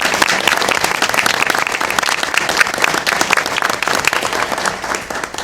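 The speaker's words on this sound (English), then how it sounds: "Another round of applause." Sustained audience applause at a school board meeting, dense steady clapping from many hands filling the room throughout, loud and close with no talk over it.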